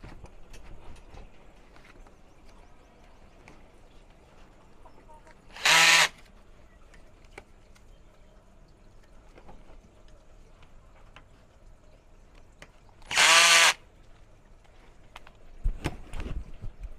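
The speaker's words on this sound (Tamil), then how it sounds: "இப்போது கன்னில் வந்து லைட்டாக டைட் பண்ணியாச்சு" A power tool gun briefly tightens a pipe fitting in two separate short, loud bursts of whirring several seconds apart, with quiet background hum and faint knocks between them.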